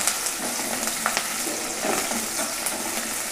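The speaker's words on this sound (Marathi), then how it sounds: "1 मिनिट अशी मिरची तळून घेतलेली आहे तेलामुळे, म्हणजे तिखटपणा छान उतरतो" Green chillies, cut and fried for about a minute in hot oil for a khichdi: a steady, dense sizzle with crackling pops throughout, close and fairly loud, with no voices.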